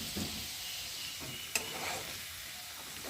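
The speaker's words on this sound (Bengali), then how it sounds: "আলুগুলো ভাজা হয়ে গেছে, আর আলুগুলোকে তুলে নিয়েছি" Potatoes frying in oil in a wok, a soft steady sizzle with faint stirring and one brief metallic clink partway through.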